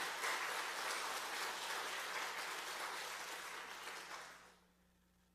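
A church congregation applauds steadily for about four seconds, the clapping dense and even before fading quickly into near silence, with a brief spoken word at the end.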